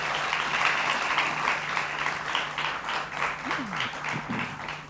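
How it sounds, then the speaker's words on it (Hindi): Warm audience applause greeting a guest on stage, continuous dense clapping at a fairly steady level, with faint voices briefly audible beneath it. "जोरदार तालियों से इनका स्वागत कीजिए"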